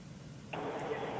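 Faint, steady highway road noise from a car driving on I-85, a low broadband rumble that steps up slightly partway through and continues unbroken.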